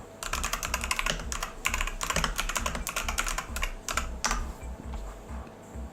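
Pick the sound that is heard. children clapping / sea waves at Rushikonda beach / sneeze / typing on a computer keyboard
typing on a computer keyboard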